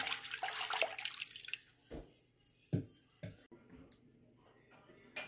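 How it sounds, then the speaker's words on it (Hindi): Water poured into a cooking pan on the stove while preparing Afghani-style chicken karahi, a brief splashing pour near the start and then a few faint drips and knocks, with someone talking over it. "इसमें मैं 1 लीटर पानी ऐड कर रही हूँ।"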